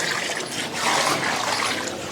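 Water poured into a goat feeder on a goat farm, a continuous close trickling and splashing stream that swells slightly midway, heard alone without talk.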